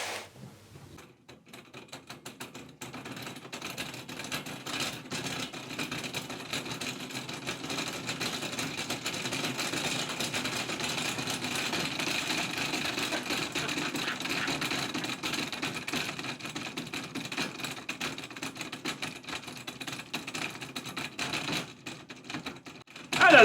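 A BMW car cooling fan rigged as a generator is spun up, giving a steady, close mechanical whirring hum that swells and holds for about twenty seconds, with no talking.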